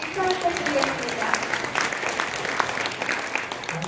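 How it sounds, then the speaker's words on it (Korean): An audience at a book concert applauds in welcome of an arriving guest, a former construction minister. The clapping is moderate and steady, with voices talking over it throughout. "박수 부탁드릴게요"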